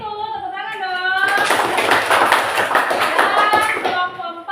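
A group of children in a classroom clap their hands together, a dense, steady round of applause lasting several seconds, with a teacher's voice speaking over the start and end.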